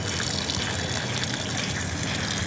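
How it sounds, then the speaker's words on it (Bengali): Water gushes steadily from close by onto the soil at the base of a bottle gourd plant, a dense, continuous splashing pour with no pauses or voices. "এই গাছের গোড়ায় যে জল দিচ্ছি"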